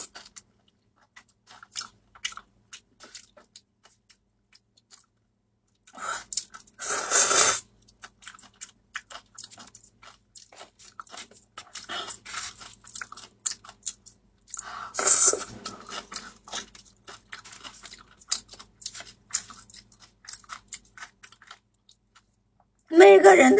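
Crunchy food chewed close to the microphone during an eating show, with bursts of crisp crunching between quieter stretches and several louder loud bites.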